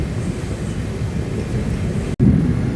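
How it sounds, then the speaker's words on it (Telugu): Heavy rain pours steadily during a train journey, a loud dense wash with a low rumble underneath that suggests thunder. A brief dropout breaks it before the downpour returns. "భయంకరమైన వాన."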